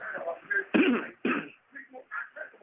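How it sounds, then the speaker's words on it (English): A man clears his throat with a couple of rough, gravelly bursts amid brief mumbled speech. "you clear your throat too"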